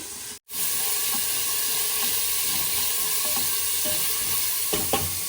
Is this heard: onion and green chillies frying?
yes